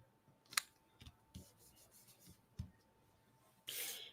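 Scissors snip paper card at close range, with a few sharp cuts and light rustling and handling between them, then a louder burst of paper noise at the end.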